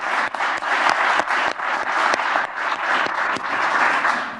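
An audience at a round-table political event in Seville applauds, a loud, steady patter of many hands with a few sharp, distinct claps standing out, sustained evenly before tapering at the end.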